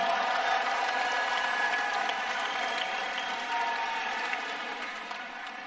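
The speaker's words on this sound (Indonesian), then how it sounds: "Beri tepuk tangan untuk seluruh jajaran Amanat Indonesia." Large audience at a political rally in Jakarta's Senayan, sustained dense applause and cheering that fills the space evenly, then slowly tapers off toward the end.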